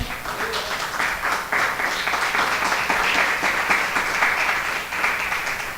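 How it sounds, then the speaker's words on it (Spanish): A church congregation claps during a Spanish-language service, a dense, sustained round of applause from many hands filling the room at a steady level. "¿Le pueden dar un aplauso al Señor?"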